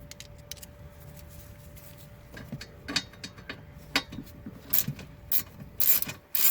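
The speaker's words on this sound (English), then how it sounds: "you want to use a T20 Torx bit to remove the 4 screws" A T20 Torx bit backing out screws from a metal cover on the dash of a Dodge Avenger, heard as quiet hand-tool ratchet clicks and small metallic taps that grow sharper toward the end, near and faint.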